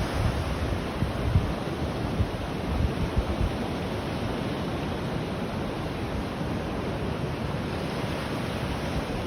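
Surf washing onto a deserted Gulf of Mexico beach at sunrise as a steady, broad wash of waves mixed with wind rumble against the microphone. There are no voices.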